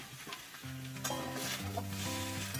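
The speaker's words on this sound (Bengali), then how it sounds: "একটু চাপা দিয়ে দিয়ে ভাজলে কি হয়, ফুলকপিটাও নরম হয়ে যাবে, ভাজাটাও।" Cauliflower pieces frying in a little oil in a covered pan, a steady close sizzle with a spoon scraping and stirring through it, no voices.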